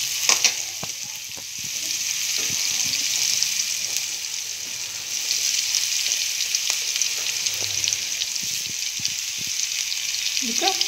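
Chopped onion and other roti ingredients fry in a pan with a steady, hissing sizzle, broken by occasional stirring clicks and scrapes.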